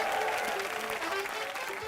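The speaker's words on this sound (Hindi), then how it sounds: "जोरदार तालियां हो जाएं" A studio audience on a Colors TV entertainment show applauds in a brief burst of clapping, with crowd noise and tonal music underneath.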